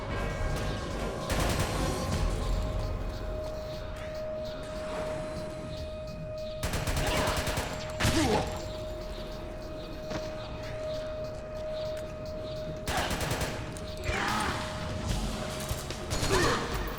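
Rapid weapon fire in Metal Gear Solid 4 rattles in long automatic bursts with sharp separate shots, loud and dense over steady game music and background noise.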